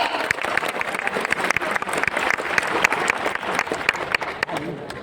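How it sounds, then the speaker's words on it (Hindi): Loud crowd applause at the Ashoka Janmashtami festival, many hands clapping in a dense, lively stream with sharp individual claps standing out, close and sustained for the whole stretch with crowd murmur beneath. "अपने जोरदार तालियों का और जिंदा दिल का प्रदर्शन करते रहिएगा"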